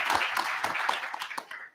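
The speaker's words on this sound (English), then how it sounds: "A big round of applause to Chandrababu Naidu garu." Crowd at a deep technology strategy event giving a round of applause for Chandrababu Naidu, steady overlapping clapping at moderate distance that gradually thins out toward the end.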